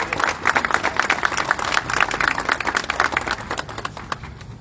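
Steady audience applause at a school's 60th anniversary ceremony, many hands clapping in a continuous, fairly loud wash that tapers slightly toward the end.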